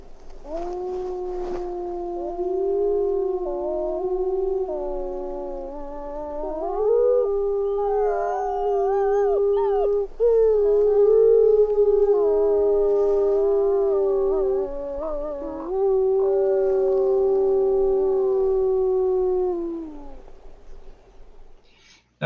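Wolves howl in long, overlapping wavering tones, several voices rising and falling together for about twenty seconds, fairly close and clear.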